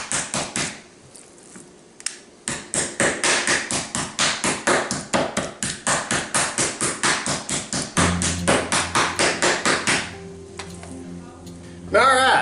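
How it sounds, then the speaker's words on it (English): A meat hammer pounds venison on a board in a fast, steady series of sharp, loud thwacks, close up, with a brief pause and a few scattered knocks near the end. "we got that whole plate of venison pounded out with that meat hammer"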